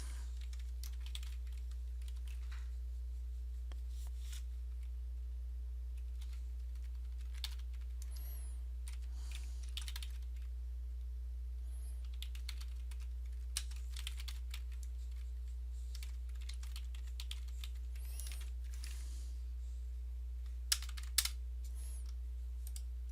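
Sparse, light keyboard clicks arrive in short scattered runs as code is typed on a computer keyboard, set over a steady low electrical hum with a couple of sharper taps near the end.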